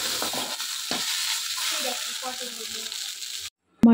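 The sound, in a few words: ghatkol leaf paste frying in oil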